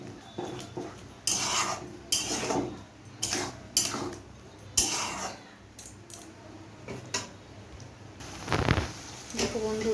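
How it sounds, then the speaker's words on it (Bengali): Spice paste of garlic, ginger and cumin being fried for chicken kosha, heard as a run of scraping and clattering spatula strokes against the pan in an irregular rhythm, with a low sizzle beneath. "এবারে মশলাটা একটু ভালো করে ভেজে নিতে হবে যাতে মশলার কাঁচা"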